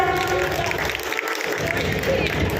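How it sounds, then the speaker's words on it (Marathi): A crowd gives sustained applause after a children's dance performance at a park cultural event, the clapping steady and fairly loud beneath someone talking over it. "जोरदार टाळ्या होऊन द्या त्यात"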